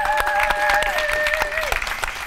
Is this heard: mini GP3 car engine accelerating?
no